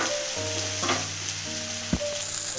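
Green chilli and tomato masala sautés loudly in a pan for tomato pachadi, with a constant close sizzle, spatula stirring and a sharp scrape near the end. A low steady hum runs underneath, and there is no speech.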